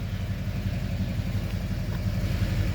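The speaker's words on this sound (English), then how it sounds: "Exhaust, I mean, it's got a little rumble to it" A 2006 Chevy Silverado 2500 LBZ Duramax diesel gives a low, steady exhaust rumble, idling evenly with a deep pulsing beat and no talking.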